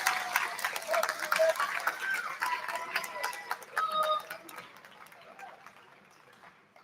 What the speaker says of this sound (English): give a round of applause to your families